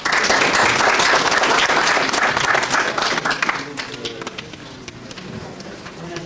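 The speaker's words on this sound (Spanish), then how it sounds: "Recibamos con un fuerte aplauso." An audience at a textile conference claps loudly to welcome a speaker. The dense applause holds for about three seconds, then thins into scattered claps and fades, with a few voices beneath it.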